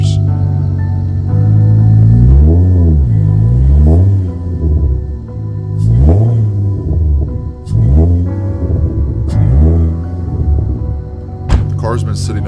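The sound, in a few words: Infiniti G35 coupe engine revving, stuck in soft ground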